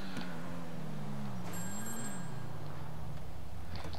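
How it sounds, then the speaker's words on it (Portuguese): A phone rings in the video game GTA 5, a faint high electronic tone heard briefly over a steady car engine drone. "Olha o telefone só tocando."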